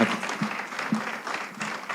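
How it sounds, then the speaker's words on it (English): Conference audience applauding a speaker, a moderate wash of clapping with a low voice faintly underneath, steady throughout. "let's give a round of applause once again to Mrs. Ndidi Uneli"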